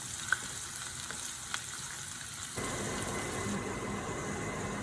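Onions frying in a pan for chicken nihari, a steady hiss that jumps louder partway through as the onions are added, with a couple of sharp clinks early on and no talking.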